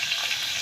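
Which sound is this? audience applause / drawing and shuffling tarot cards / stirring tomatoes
stirring tomatoes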